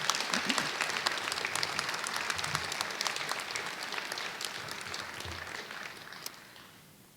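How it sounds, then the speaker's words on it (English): Sustained audience applause at an academic honors convocation for the graduating class of 2023, a dense even patter of many hands that slowly thins and fades toward the end, with no talk over it. "Okay, a round of applause for the class of 2023"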